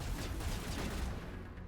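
Gunfire in the video game Mass Effect: a dense, continuous roar of shots and blasts, loud and heavy the whole way through, with a slight fade at the end.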